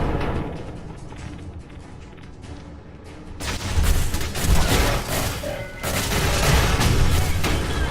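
Turret bot gunfire in Fallout 4, a quieter stretch of rattling shots, then an abrupt loud burst of rapid, dense firing and impacts that keeps pounding to the end.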